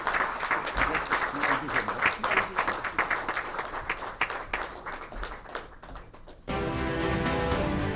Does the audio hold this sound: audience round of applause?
yes